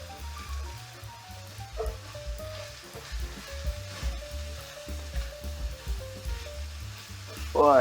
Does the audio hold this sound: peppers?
yes